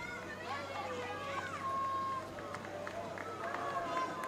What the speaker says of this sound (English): You can hear the people cheering for him.